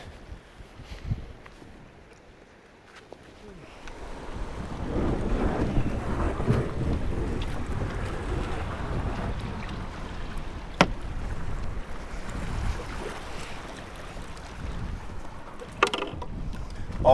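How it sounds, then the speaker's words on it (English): Strong wind buffets a kayak on Lake Superior, a broad rushing roar of gusts and rough water that swells after a quieter start and stays loud and continuous, with no talk. "The wind is only going to get stronger this afternoon."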